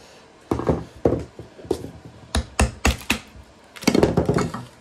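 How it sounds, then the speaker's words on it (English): A composite glider fuselage being pried out of its mold with a screwdriver and an old propeller, giving a series of sharp cracks and dull knocks in uneven bursts, close and fairly loud with no talk. "Good cracking noises."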